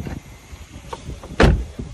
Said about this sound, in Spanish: Mira cómo cierra esa puerta.